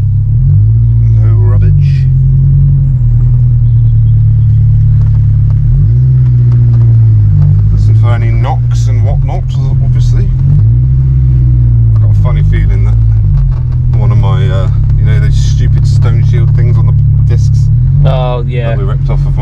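A Honda S2000 riding on BC Racing coilovers drives along with a loud, steady engine drone and rising and falling revs heard from inside the cabin, while people talk over it throughout.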